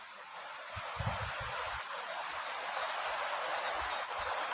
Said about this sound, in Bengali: এখন জলের স্রোত একটু বেড়েছে